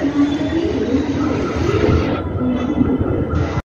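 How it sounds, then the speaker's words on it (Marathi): Rumbling, rattling railway noise at Dadar railway station in Mumbai, a steady loud wash of train and platform sound that thins out near the end, with a brief cut just before it stops. "हा दादरचा रेल्वे स्टेशनने"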